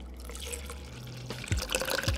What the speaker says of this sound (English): We're gonna go ahead and pour the water in.